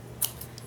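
Scissors trimming a paper notebook cover give one quick, crisp snip, close and on its own in a quiet room.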